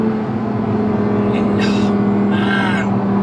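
A 2019 Audi R8 V10 Performance with its 5.2-litre V10 accelerates uphill on a hill climb, a steady loud interior engine drone with a brief exclamation and talk over it.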